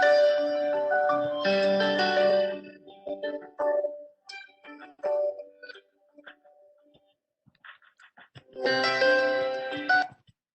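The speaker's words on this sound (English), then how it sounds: "Second agent is now ringing in." A Cisco desk phone rings with an incoming UCCX queue call: bursts of electronic ringing open and close the stretch, with quieter tones and clicks between them and no talk.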